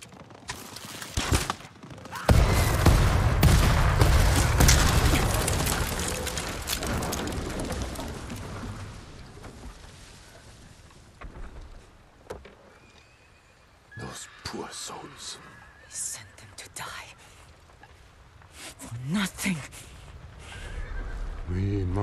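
Horses neigh and whinny in a Ghost of Tsushima battle scene, rising above heavy rumbling action and commotion early on, then sharper cries and hoof sounds later, with voices talking throughout.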